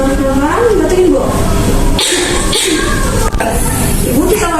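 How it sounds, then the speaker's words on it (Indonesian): A woman patient coughs during a nursing breathing and effective-coughing exercise, a few rough, close coughs amid a nurse's spoken instructions and background room noise. "Tarik nafas, keluarin pelan-pelan, batukin Bu."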